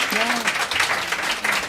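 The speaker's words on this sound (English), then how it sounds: "So a round of applause, quick, guys." Live audience applauding at a recorded podcast event, a dense, steady wash of clapping from a room full of people, with a voice briefly heard over it at the start.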